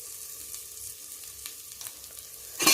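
Tomato rasam base sautés with turmeric and salt in a pan, a soft continuous sizzle broken by faint ticks of stirring, ending in a loud scrape of the spoon against the pan.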